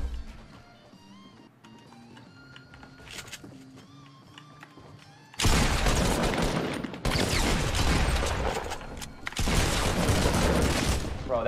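AK rifle fire in Fortnite Battle Royale: after a stretch of quieter in-game sounds, loud rapid bursts of hip-fired automatic shots erupt close by and repeat in long volleys.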